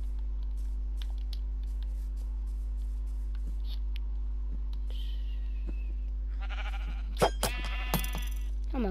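Sheep in the Minecraft video game bleating several times in short, clear calls, mixed with game effects and a steady electrical hum underneath, followed by a burst of sharp clicks near the end.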